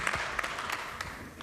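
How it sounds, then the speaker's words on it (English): Audience applause at a transport innovation conference session, a short burst of steady clapping from a seated crowd filling the room at moderate level. "please, a round of applause."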